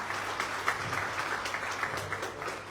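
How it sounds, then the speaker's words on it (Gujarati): Applause from a gathered audience greeting a village sarpanch as he comes up on stage at a police gathering, a steady patter of many hands clapping, moderately distant and fairly soft, lasting throughout. "તાળીઓથી વધાવીએ"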